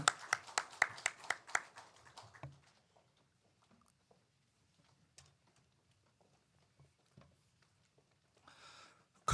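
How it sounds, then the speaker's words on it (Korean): A congregation claps in blessing during a Sunday church service: a burst of loud, rhythmic, in-time claps for about two seconds that fades to scattered faint claps and taps, with a brief murmur of voices near the end. "우리 다시 한번 축복의 박수 하십시다."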